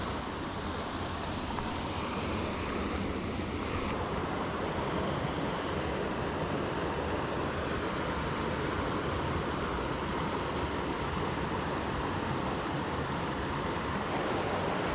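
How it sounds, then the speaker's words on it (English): A small waterfall pours straight down into a pool at a brook trout fishing spot, a steady broadband rushing and splashing hiss that holds constant and close throughout with no talking. "We got this waterfall, comes like straight down into here."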